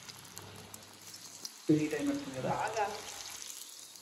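Pieces of chicken popcorn dropped into fully heated oil, a sudden bubbling sizzle that bursts in partway through and carries on steadily, close by, with someone speaking over it.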